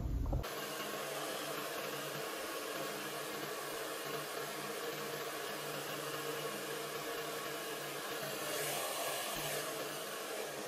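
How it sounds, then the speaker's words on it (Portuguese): A hair dryer blows hair dry after rinsing in a capillary botox straightening routine, running as a steady, close, loud whooshing hiss with no talk over it. "agora eu vou secar bem o cabelo e fazer uma escova nele"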